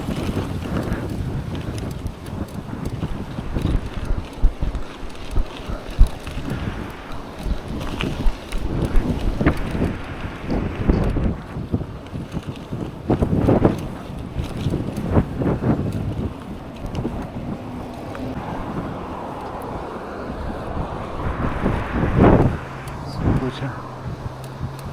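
Wind buffets the microphone while riding a bicycle straight into a headwind along the Nemunas river toward Kulautuva. Irregular gusts and rumbling bursts come through close and loud, with a few brief sharper sounds.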